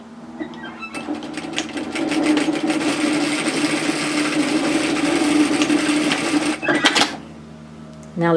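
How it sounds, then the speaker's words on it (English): An overlocker sews along a seam of a woven kimono robe, a fast steady mechanical whirr with a rattling stitch rhythm that runs for several seconds, then stops with a few clicks. "Now let's overlock."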